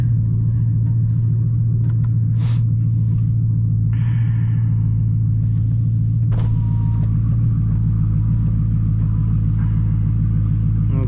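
A BMW E92 M3 engine idles steadily during warm-up, a loud, constant low rumble with a faint whir on top. A few brief clicks and a short higher whine break in over the drone.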